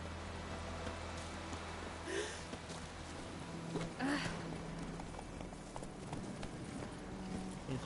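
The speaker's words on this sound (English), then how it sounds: "Come here, horse." Horse hooves clip-clop in The Witcher 3 game, a soft, uneven run of hoof beats over a steady background bed, with a few louder thuds and faint voice-like sounds.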